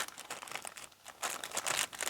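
A small plastic bag of resin scale-model parts is opened and handled, with crinkling bursts close to the mic, a brief lull, then louder sustained rustling.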